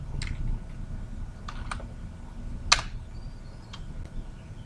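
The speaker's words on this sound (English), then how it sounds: "So for that, we're going to type SQL connection" Keys clack on a computer keyboard while SQL connection code is typed, a close, irregular run of crisp taps with a few sharper strikes, heard alone over a low room hum.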